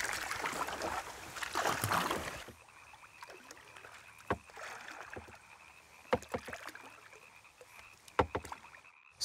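A homemade kayak moves through a swamp, with a couple of seconds of steady rushing water and paddle strokes, then quieter scattered drips and small splashes against a calm, faint background.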